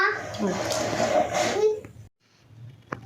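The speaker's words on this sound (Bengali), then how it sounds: "চালটা এখানে ধুয়ে নিচ্ছি আমি" Close swishing and splashing of water as rice is washed by hand in a small kitchen, continuous for about two seconds and then stopping, with a voice chattering over it.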